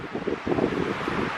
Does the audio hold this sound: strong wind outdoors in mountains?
yes